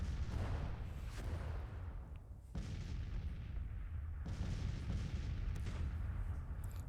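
Repeated heavy booms of cannon fire in the video game Grand Tactician roll out one after another over a constant rumbling din, with no talking.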